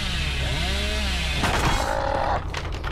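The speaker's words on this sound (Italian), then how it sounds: "Vedete che nel grano è un casino usare la motosega." Hillbilly killer's chainsaw revving in the Dead by Daylight video game, a loud sustained motor whine with rising and falling pitch, heard up close amid game effects with no talking.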